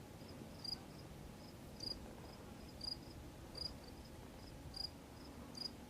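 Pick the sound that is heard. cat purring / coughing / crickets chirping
crickets chirping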